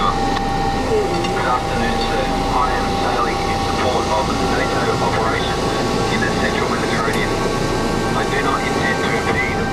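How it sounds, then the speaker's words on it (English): A plane flies overhead above open sea. Its steady, loud engine drone fills the whole stretch, with a rumbling low end, and faint wind or water noise sits underneath. "A plane overhead, searching the water."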